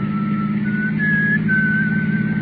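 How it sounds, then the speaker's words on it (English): A clear, steady whistled tune holds long notes over a constant low engine rumble, like riding inside a moving car. "Then I heard him whistle."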